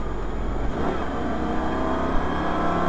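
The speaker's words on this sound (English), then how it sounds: "Shit, it pulls up. Shit, they bloody really go. And accelerate now." Inside a Lamborghini Superleggera accelerating hard at Hampton Downs circuit, a loud continuous engine roar with wind and road rumble filling the cabin, no voices.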